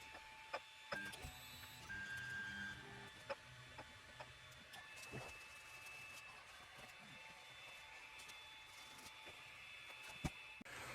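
An Ender 3 Pro 3D printer at work, quiet stepper motors whining and humming in shifting tones with occasional ticks and clicks, steady and close in a still room.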